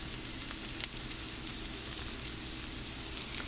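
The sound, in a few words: chopped garlic frying in a pan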